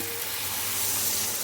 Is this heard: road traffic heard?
no